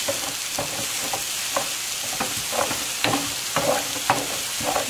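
Beans (frijoles) that are slow to come to a boil are stirred hard in a pot, with a rhythmic run of scraping strokes about twice a second over a low, even bubbling bed.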